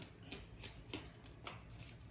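Tarot cards shuffled by hand, several soft riffling bursts at an irregular, unhurried pace, close and quiet with no talk.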